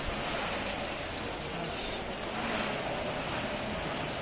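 Strong typhoon wind roars in a steady, loud broadband rush, gusting slightly, with no voices.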